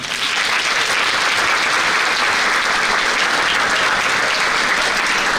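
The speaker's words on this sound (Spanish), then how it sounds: "Yo creo que se merece un segundo aplauso." A lecture audience gives loud, continuous applause after a keynote on transforming research; dense, even clapping fills the whole stretch without speech.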